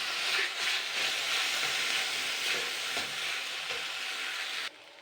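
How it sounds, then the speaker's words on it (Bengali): Mashed taro leaf being stirred in a pan, giving a broad steady sizzling hiss with faint scraping throughout that cuts off abruptly near the end, with no voices. "এগুলো এবার একটু নাড়াচাড়া করে নিতে হবে।"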